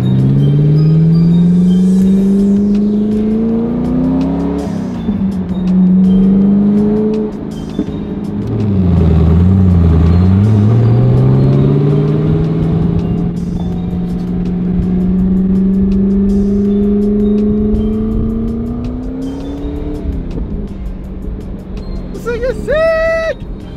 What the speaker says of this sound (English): this is my very first time driving a Ford GT. 1100 horsepower twin turbo one